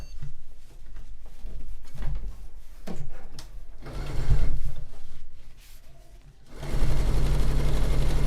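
A sewing machine stitches a full border along the side of a quilt, running in close, loud bursts with short pauses before settling into a continuous steady whir.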